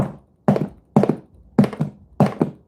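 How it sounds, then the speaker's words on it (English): Five heavy thunks at roughly half-second intervals, each a dull knock with a brief rattling tail, like loose hand tools jolting inside a bag. "You can hear the tools bouncing."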